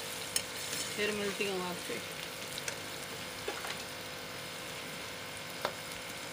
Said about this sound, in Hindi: अब इनकी भुनाई कर रही हूँ, इनको फ्राई करके